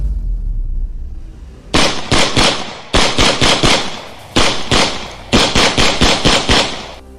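Gunfire in a horror action story rings out in several rapid volleys of sharp, loud cracks, each burst of four or five shots separated by short pauses, close and punchy against a quiet low rumble.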